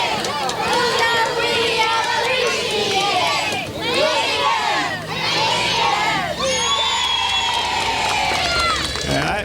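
A large crowd at the 1990 Cupertino Heritage Parade cheers for Lincoln school, with children's shouts and excited voices rising in loud, overlapping bursts and waves of cheering throughout.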